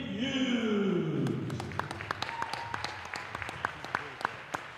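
Audience applause for senior cheerleader Taylor Brown at a boys' basketball game: a loud wash of clapping that starts dense and slowly thins into scattered, separate claps over a low hum of crowd voices.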